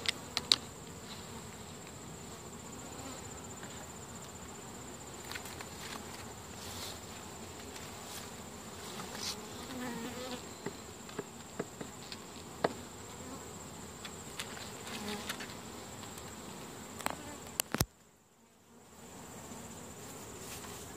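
Steady, dense buzzing of many honey bees at a hive fills the air continuously, close and constant, with occasional louder passes near the end before a brief dropout.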